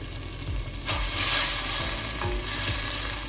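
Tamarind water poured into a pan of fried dried fish, giving a loud sudden rush of sizzling that keeps bubbling steadily, with low thumps from stirring underneath.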